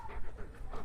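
A dog pants close by in quick, rhythmic breaths, short and fairly soft, with no talk over it.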